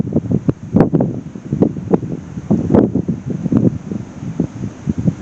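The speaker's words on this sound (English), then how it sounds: "It's getting very windy." Strong wind blows outdoors at a local playpark, hitting the microphone in loud, irregular gusts and buffets that rise and fall through the whole stretch, with no talking.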